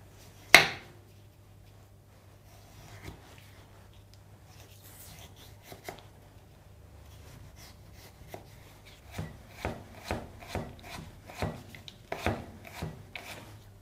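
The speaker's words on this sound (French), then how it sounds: "On coupe la betterave en fines lamelles," A knife cuts peeled beetroot into thin slices and then small sticks. A few isolated cuts come first, then a steady run of crisp, close chops on a board, with no talk.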